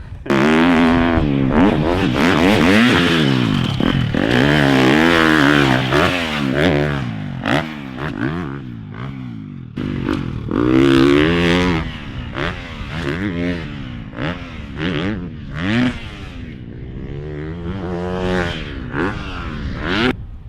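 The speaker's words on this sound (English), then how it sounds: "The bike's sweet, especially when you have it up in the revs." A motorcycle engine in the video game Privateer 2 Pro revs up and down repeatedly, its pitch rising and falling in waves with a buzzy, clattering tone, loud and continuous throughout.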